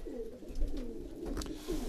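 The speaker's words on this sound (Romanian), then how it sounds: "Avem mulți porumbei de la noi, reproduși la noi în crescătorie" Breeding pigeons coo in a loft, soft throaty rolling calls repeating through the clip at moderate distance, with no voices over them.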